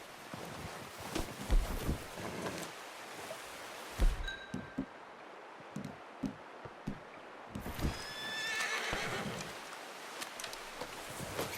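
A horse in the Red Dead Redemption 2 video game whinnies and snorts while hooves clip-clop in uneven steps, with wind noise and a brief high neigh in the middle, fairly close but quiet.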